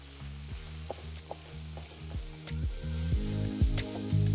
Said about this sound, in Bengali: আর তারপরে পেঁয়াজের সাথে রেখে ভালো করে ভেজে নিচ্ছি।